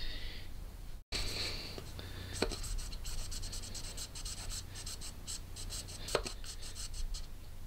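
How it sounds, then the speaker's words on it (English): Rough rasping strokes of a knife blade biting into wood, repeated in a steady saw-like rhythm at close range, with a brief sharper scrape near the end. "You can hear that kind of sawing."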